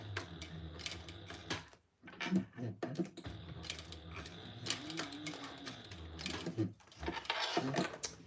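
A sewing machine back stitches a seam on a crossbody bag, running in short whirring bursts with pauses and rapid mechanical clatter, and faint talk comes in between.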